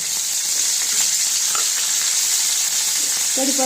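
Garlic, chopped green chili and curry leaves frying in hot oil, a loud continuous close-up hiss and crackle with a faint metallic tap near the end and no talk.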